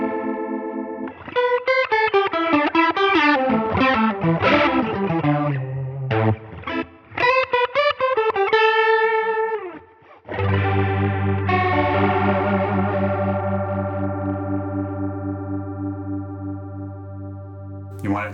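Electric guitar through a Line 6 Helix chorus effect: distorted, shimmering phrases and chords, ending on a long ringing chord that slowly fades, heard up close with no talking.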